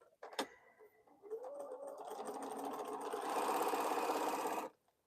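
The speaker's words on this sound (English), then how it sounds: "Now I'm sewing one end to the piece that I didn't sew to the first time." A sewing machine stitches jelly roll quilt strips in one steady, fairly loud run that speeds up and then stops abruptly, with a short clack at the start.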